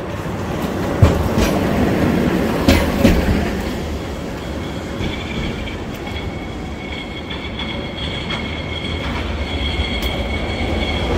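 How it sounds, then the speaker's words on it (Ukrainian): Trams rolling through a winter evening street in Lviv toward the depot, a loud continuous rumble of wheels on rails with clacking joints and high squeals of wheels on the track, close by and lasting throughout. "трамваї в депо їдуть"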